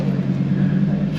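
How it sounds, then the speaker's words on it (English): A Lamborghini Huracan EVO V10 engine rumbles steadily at a low, even drone, brief and continuous on a drive at Goodwood. "It still sounds good, that V10. Best sounding V10 in my opinion."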